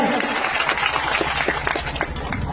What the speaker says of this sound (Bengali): জেলাবাসীর জন্য একটা জোরে হাততালি হবে